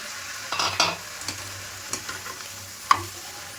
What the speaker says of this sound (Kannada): ಮೊಟ್ಟೆ ಮತ್ತು ಹಾಕಿರೋ ಮಸಾಲೆ ಎಲ್ಲ ಹೆಸರು ಕಾಳು ಜೊತೆ ಮಿಕ್ಸ್ ಆಗಬೇಕು ಚೆನ್ನಾಗಿ